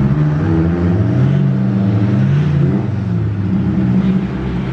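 A 2017 Toyota Hilux SVR 2.8 turbo diesel 4x4 automatic revving, a loud close engine drone rising and falling in pitch for several seconds with no voices.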